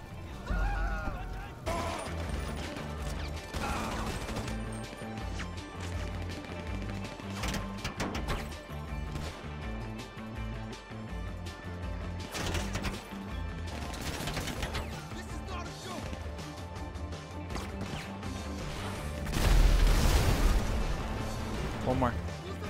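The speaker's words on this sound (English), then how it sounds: "I tried throwing a grenade" Grenade blasts and gunfire in GTA V heist gameplay: repeated sharp explosive bursts and cracks at irregular intervals over game music and effects, with a heavier blast near the end.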